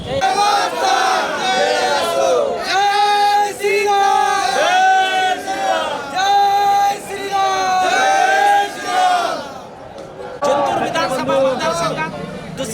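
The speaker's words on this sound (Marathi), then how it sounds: "या ठिकाणी विजय जल्लोष साजरा होत आहेत" Crowd cheering at an election victory celebration for a newly elected MLA in Maharashtra, loud sustained chanting and yelling in rhythmic waves from a close, dense group, with a brief dip near the end before voices rise again.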